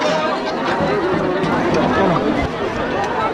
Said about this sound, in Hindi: यहाँ बड़ी भीड़ है